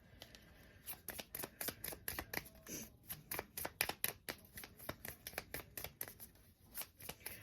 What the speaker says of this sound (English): let's get some more cards